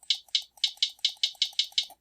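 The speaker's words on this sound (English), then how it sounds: "you never want your hi-hats to be super loud" Quiet trap hi-hats programmed in FL Studio and turned down in level, a steady run of about nine crisp ticks at an even, quick pulse, alone with no talk.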